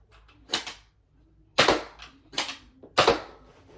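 A Nerf Elite 2.0 Trio blaster fires foam darts from its first and second barrels. Four sharp, close pops come in an uneven sequence, with no talking.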